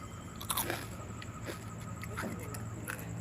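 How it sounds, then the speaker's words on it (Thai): Crispy fried fish scales sprinkled with pepper are bitten and chewed close up, giving several distinct crunches spaced about a second apart over a faint background hum. "มาชิมให้ดูนะคะ กรอบมากเลย"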